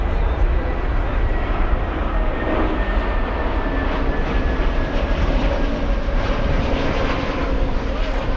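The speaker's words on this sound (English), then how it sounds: "we're going to stay with the 777 China Eastern" A China Eastern Boeing 777 at Frankfurt airport gives a steady, loud jet engine roar that holds without letup, with a faint thin whine riding above it.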